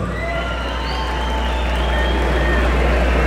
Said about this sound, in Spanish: El rancho, la noria de Sintáguaro, regálele fuerte el aplauso